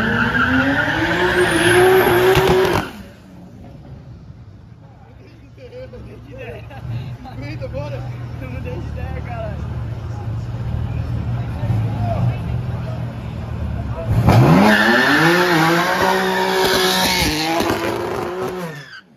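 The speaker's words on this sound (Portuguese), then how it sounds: "M4 do Brandão." A BMW M4's engine roars and tires screech loudly at the start and end of a street race, with a busy crowd chattering and shouting in between.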